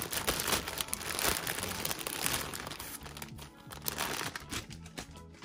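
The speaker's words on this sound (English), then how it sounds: "Let's take this one out of the packaging." Plastic packaging crinkles and rustles continuously around a small Pokemon Pichu plushie as it is unwrapped, close and fairly quiet, with irregular crackles throughout.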